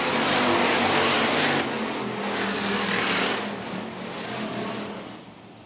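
Hobby stock race cars roar loudly around a dirt oval at Phillips County Raceway, a continuous close engine din that swells and slowly fades as the pack works out of a corner.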